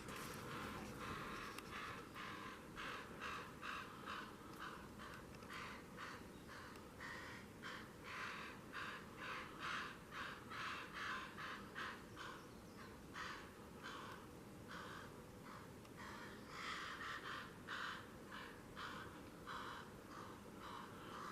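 A crow caws from the woods in a long run of regular, repeated calls. The calls are faint and distant, with short pauses between bursts, and no one speaks.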